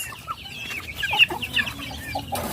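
Farm chickens clucking close by, a busy run of short chirpy clucks and squawks over a low background hum, with no talking.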